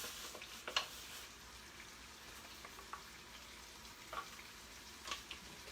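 Salmon fillet sizzling in a hot pan, with a steady faint frying hiss and a few sharper crackles and pops scattered throughout.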